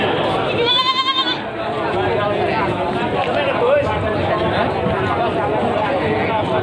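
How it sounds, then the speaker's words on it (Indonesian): Breeding goats bleat at the crowded Pasar Legi Munjungan livestock market, with one clear close bleat early on, then a steady din of animals and people talking throughout. "suasana tempat kambing bibitan lumayan ramai di Pasar Legi Munjungan"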